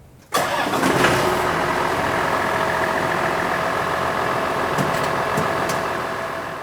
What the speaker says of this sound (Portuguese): aproximamos o trator para o acoplamento na barra de tração